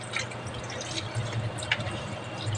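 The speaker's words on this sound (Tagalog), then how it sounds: "Tapos lalagyan natin ng tubig." Water is poured into a cooking pot of adobo, a steady close splashing and trickling stream with a few small drips, and no voices.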